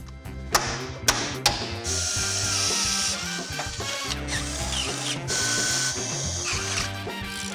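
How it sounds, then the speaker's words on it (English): Power drilling and bolt installation on a bracket of an old Ford F-150 during an off-road build, with sharp tapping hits at the start and then steady whirring tool noise running through most of the clip, no talk. "I'm gonna get these 3 holes drilled, get the bolts in"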